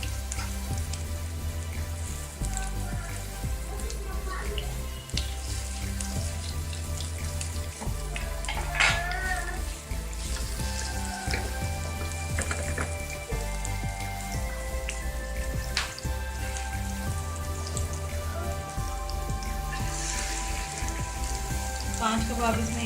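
Shami kababs sizzling in a little oil in a pan, a steady dense frying crackle with water-like hiss running throughout, continuous and close, with no talk.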